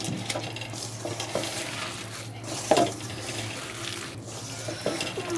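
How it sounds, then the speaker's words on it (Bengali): Raw masoor lentils worked together with spices by hand, making soft, wet squishing and kneading sounds at moderate level, with a few sharper clicks over a steady low kitchen hum. "সব করা উপকরণ আমি এখন হাত দিয়ে এভাবে মেখে নেব"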